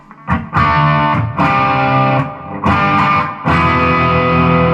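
An electric guitar through a Blues Breaker overdrive pedal plays sustained, mildly overdriven chords, loud and close, with short breaks between strums and no voices.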